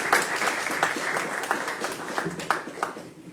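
Warm applause from the audience at a book talk with three authors, a moderately loud spread of clapping with distinct individual claps that fades toward the end.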